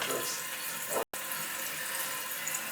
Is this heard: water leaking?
yes